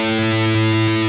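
High-gain distorted electric guitar through a Peavey Invective MH 20-watt tube amp, a sustained saturated chord ringing thick and buzzy with a faint hiss, heard alone and up close.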